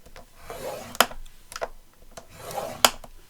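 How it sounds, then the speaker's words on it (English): Paper being scored for the narrow spine of a handmade journal, with short scraping strokes and a few sharp clicks, close and quiet, and no talking. "what I'm going to do is score at 1/2 inch"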